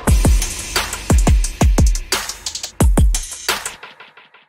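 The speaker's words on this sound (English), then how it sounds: "Then we just added this big crash right here, big hip hop crash." Big hip hop crash cymbal layered over a beat in a hook, striking repeatedly with bright splashy hits over punchy low drum thumps, then ringing out at the end.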